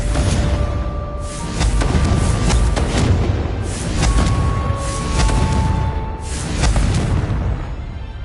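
Repeated fiery blasts of the Confringo explosive spell in Hogwarts Legacy, several booming bursts in a row amid ongoing game action, loud and close with rumbling tails between hits.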